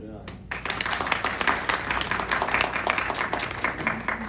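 A crowd breaks into applause at an International Women's Day gathering, a dense continuous clatter of clapping that starts abruptly and carries on loudly throughout.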